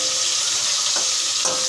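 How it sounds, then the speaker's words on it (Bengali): Pointed gourd (potol) frying in a pan of oil, a bright steady hiss of sizzling with a couple of brief spatters. "পটলগুলো আমি ভাজছি"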